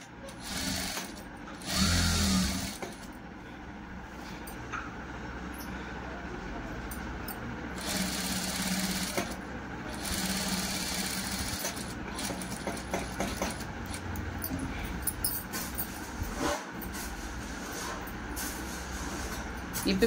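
A sewing machine stitching a prince cut blouse runs in a continuous whirring drone, close and moderately loud, with a brief louder burst early on, while someone talks over it for much of the stretch.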